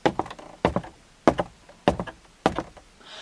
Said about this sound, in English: Suddenly, you hear footsteps.